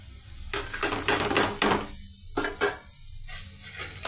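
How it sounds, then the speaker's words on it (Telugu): Onion, green chilli and ginger pieces fry in hot oil, giving a steady close sizzle with bursts of crackle as pieces are stirred, with no talk. "ఈ విధంగా అన్నీ ఈ ఆయిల్లో ఇప్పుడు ఫ్రై చేస్తున్నామండి"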